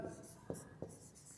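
Chalk or marker writing on a board during a physics lecture, with soft scratchy strokes and two sharper taps, heard faintly over low room tone.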